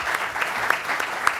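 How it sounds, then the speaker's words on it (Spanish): Audience applause for the panelists at a social movement and human rights event, steady close clapping with a few sharp individual claps standing out. "Démosle un aplauso a los panelistas que hemos tenido"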